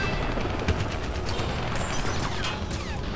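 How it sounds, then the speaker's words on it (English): Enemy gunfire in the twin-stick shooter Renegade Ops clatters in rapid, mechanical bursts, a steady rattling volley layered with game noise and no voices. "There's little red dudes shooting at me."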